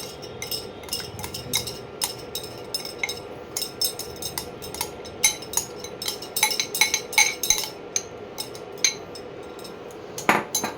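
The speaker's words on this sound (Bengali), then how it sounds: "এবারে ভালো করে মাংসটাকে মিশিয়ে দিলাম।" A spoon repeatedly clinks and scrapes against a pot while chicken curry with yogurt, onions and coriander is stirred, giving irregular light metallic taps over a steady low hum of cooking.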